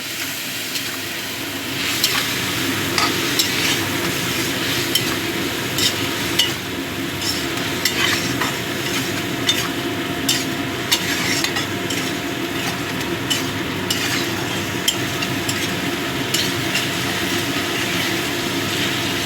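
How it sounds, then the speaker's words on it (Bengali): Fish masala with potato and eggplant being sautéed in a pan with a little hot water, an even sizzle under repeated metal stirring scrapes and clinks, close and steady, with no talking. "এবার অল্প গরম জল দিয়ে ভালো করে কষিয়ে নেব।"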